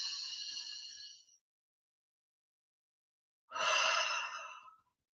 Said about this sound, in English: Inhale and breathe.